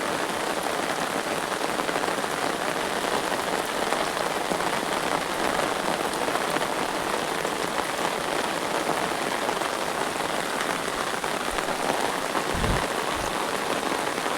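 Heavy rain pours steadily over a chili crop field, a dense, unbroken hiss of drops with a couple of dull low thumps near the end.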